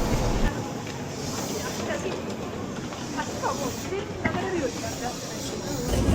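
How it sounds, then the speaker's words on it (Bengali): From inside a slow-moving passenger train comes a continuous hissing rumble of wheels and carriage, fairly quiet and steady throughout, with faint voices in the background. "আর আধ ঘন্টা ধরে ধিক্কি ধিক্কি ধিক্কি ধিক্কি করে ট্রেনটা যাচ্ছে আর থামছে, যাচ্ছে আর থামছে।"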